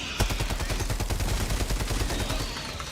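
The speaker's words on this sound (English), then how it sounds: "There, my Gatling turret." A Gatling turret fires in a video game, giving a loud, fast, steady stream of rapid shots that rattles on for the whole stretch.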